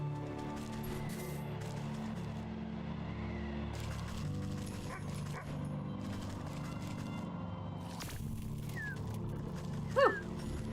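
A dog in a video game gives a few short yips and whimpers over a steady game soundtrack drone, with one louder bark near the end.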